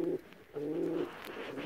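Pigeons cooing nearby, soft low throaty coos repeated in a slow rhythm with brief pauses between, fairly quiet and with no talking.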